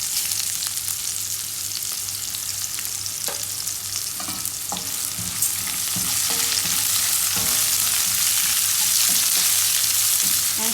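Onion and chana dal fry in a pan with a loud, continuous sizzling hiss that grows slightly stronger, with soft scrapes and taps of a stirring spoon scattered through it.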